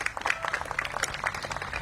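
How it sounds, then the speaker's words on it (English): An audience applauds the city's DPW team at an outdoor leaf collection program kickoff, a steady patter of many hands clapping at moderate volume for a couple of seconds. "Give them a round of applause"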